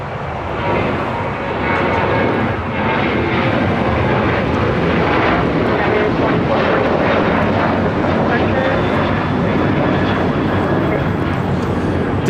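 United Airlines Boeing 737-800 taking off at LAX bound for Las Vegas, a loud, steady broadband jet roar that holds for the whole stretch, with people talking faintly underneath.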